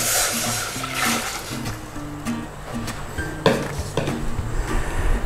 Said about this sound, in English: we want to put our 500 mils of water in there